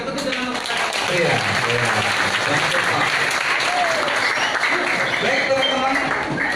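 Students applaud in a room, a dense, steady wash of clapping that holds for several seconds, with voices calling out underneath.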